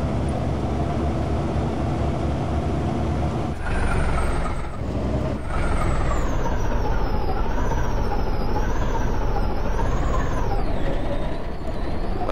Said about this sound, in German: der Bus halt halt einen Wendekreis wie ein Panzer